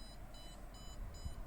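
Alarm system on a biometric entry setup beeping as it turns on: four evenly spaced high electronic beeps, faint over a steady background hum, with no voices.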